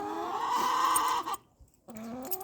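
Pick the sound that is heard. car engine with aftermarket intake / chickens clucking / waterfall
chickens clucking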